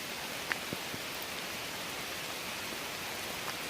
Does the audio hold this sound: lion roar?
no